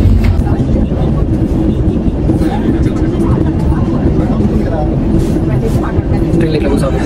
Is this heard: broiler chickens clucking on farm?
no